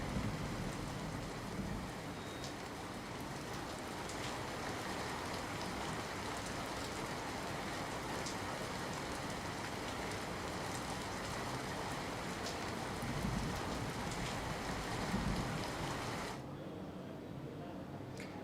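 Heavy monsoon rain pours steadily in Mahuva, Bhavnagar, a dense, continuous hiss of rain with no letup that drops away abruptly near the end.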